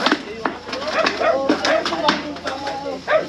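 A dog barks and whimpers near a hut where a king cobra has entered, with sharp yips and bow-wows recurring under people talking close by.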